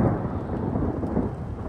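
Thunder rumbles under rain in an Arizona desert outdoors, a steady loud low roll with dense pattering, no voices.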